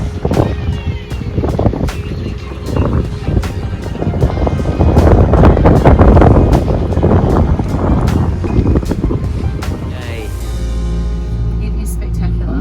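Motorboat motoring up Hinchinbrook Channel on a breezy day: a steady engine drone under heavy wind buffeting the microphone, with water rushing past and a lower, steadier engine note near the end.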